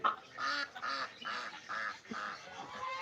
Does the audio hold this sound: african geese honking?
yes